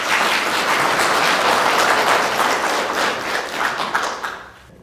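An audience at a live public-speaking podcast event applauds with dense, steady clapping that holds for several seconds, then thins out and dies away.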